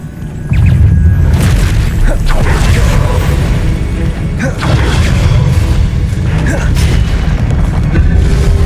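Confringo fire spell explosion in the video game Hogwarts Legacy, a loud sustained booming blast with crackling bursts and rumbling low end running for several seconds.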